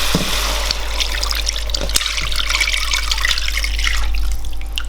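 Beef stock poured into a pot of French onion soup, a steady close liquid trickle and splash running throughout with a few small knocks, no voices.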